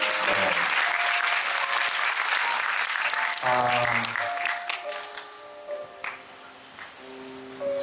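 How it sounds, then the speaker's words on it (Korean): Applause from a lecture audience, strongest in the first few seconds, then fading while tonal music with sustained notes takes over and continues quietly to the end. "이분들께 박수 한번 드릴까요?"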